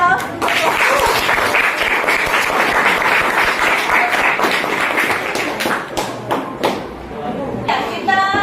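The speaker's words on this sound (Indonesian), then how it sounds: "Beri aplaus" Applause from a classroom audience fills the space, dense clapping carrying on for around eight seconds before tapering into scattered claps and a voice near the end.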